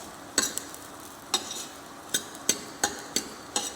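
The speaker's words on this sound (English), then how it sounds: "Just we'll saute for half a second, so it will release the flavor." Parsley stalks and fresh thyme sauté for a brown sauce, a soft background sizzle broken by a series of sharp clinks and scrapes of a utensil against the pan at irregular intervals.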